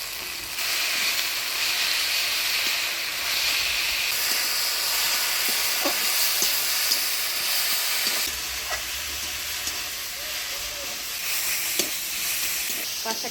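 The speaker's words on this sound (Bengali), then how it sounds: "পাঁচ শাকটা ভাজা ভাজা করে নিলাম" Jute and mixed greens with chopped onion, green chilli and salt sizzle in a pan. A continuous frying hiss runs throughout, broken by occasional scraping and clicking from stirring.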